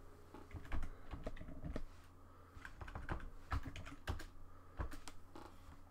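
Rapid, close keyboard typing on a computer while an animation clip is named in Unity, with clustered clicks and brief pauses and no voices.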